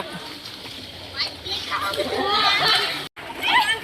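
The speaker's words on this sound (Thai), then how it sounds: "เห็นเด็กๆเเล่นน้ำกันอย่างสนุกสนานนะฮะ" Water splashing and sloshing as children play in a resort pool, with lively kids' chatter and shouts throughout, fairly close.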